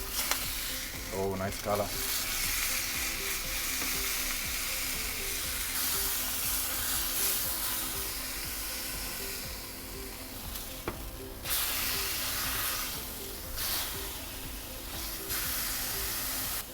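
Beef sizzling as it sears in olive oil in a hot pan, a steady frying hiss with occasional stirring and utensil clinks, and a brief spoken remark early on.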